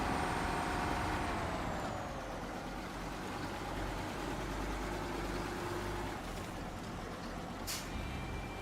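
A video game truck engine drones steadily, its pitch sliding down as it slows, followed by a short hissing release of an air brake.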